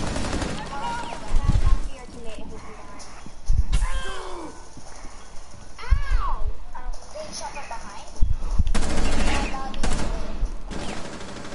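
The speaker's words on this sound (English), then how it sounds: "I'm getting shot from behind." Gunfire in a tactical shooter video game, bursts and single shots cracking at intervals from near and mid distance, mixed with in-game sounds while players talk over it.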